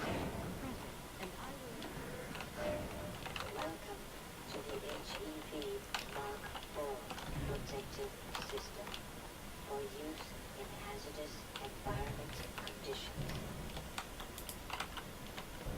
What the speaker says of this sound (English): I can use my keyboard and mouse